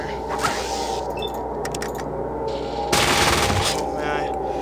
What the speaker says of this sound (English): I'm going to burst fire.